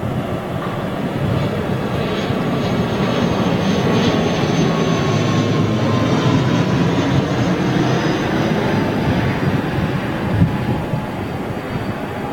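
ATR 72 turboprop airliner at Manchester Airport, a steady, loud engine roar and propeller drone holding evenly for the whole stretch with a faint whine on top, no talking.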